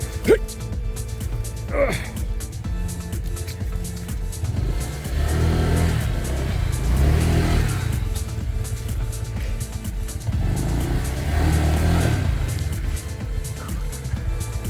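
A motorbike engine revs and strains while stuck in deep mud, a steady mid-pitched drone swelling in loud surges throughout, with people's voices and an excited gasp mixed in.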